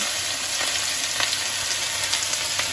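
Chopped ginger and garlic frying in hot oil after tempering, a loud, steady bright sizzle close up with a few soft stirring touches, no voices.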